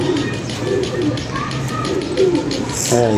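A pigeon coos softly in repeated low phrases amid outdoor background noise, with a voice briefly heard near the end.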